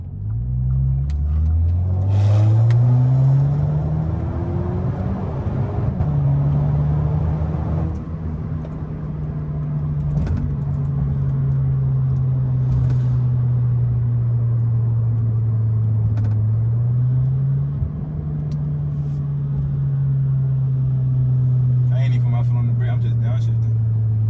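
Audi A3 8Y with its muffler deleted drives through Atlanta, a steady loud engine drone rising and settling with speed changes, accelerating then cruising, with talk over it throughout.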